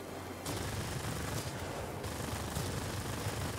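Aircraft cannon fire from World of Warplanes rattles in a dense, continuous burst of rapid shots that starts abruptly and carries on at moderate loudness, with no speech.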